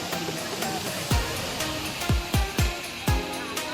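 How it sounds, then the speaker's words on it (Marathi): Steady rushing roar of a monsoon waterfall near Lohagad Fort in the Sahyadri hills fills the scene, with a few low thumps breaking through the constant wash of water. "इथला पण हा वॉटरफॉल भारी आहे"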